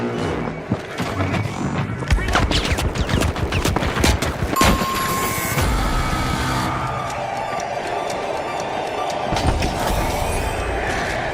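Rapid gunfire during a ranked match of The Finals, dense volleys of sharp shots crackling loudly and continuously through the first half, then thinning into scattered bursts over steady game ambience.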